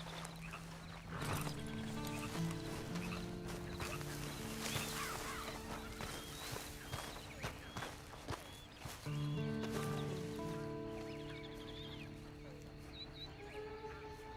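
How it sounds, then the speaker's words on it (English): Horse hooves clip-clopping in the video game Red Dead Redemption 2, soft steady footfalls under in-game music, with clucking birds and farmyard sounds around. "And you better get on this horse."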